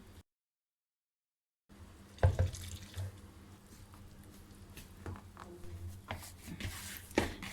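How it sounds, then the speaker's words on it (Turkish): Water poured into flour and dough kneaded by hand, soft wet patting and squelching with a few faint splashes and drips, quiet and close after a brief silence, no voices. "Şimdi arkadaşlar hamurumu yoğuracağım. Kontrollüce su katacağım."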